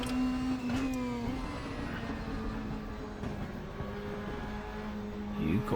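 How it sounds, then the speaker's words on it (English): DTM race car from the 2020 season in RaceRoom, engine droning steadily with harmonic tones shifting in pitch, small exhaust pops and burbles scattered through, with a brief rising rev near the end. "You've got all the little pop backs, all the barble from the exhaust, the whole lot."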